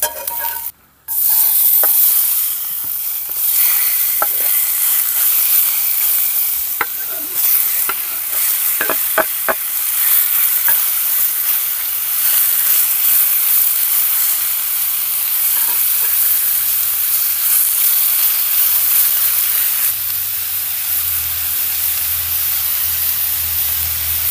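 Peppers sizzle steadily in a pan on a camp stove during truck camping, a loud, even hiss broken by occasional utensil clicks and scrapes against the pan.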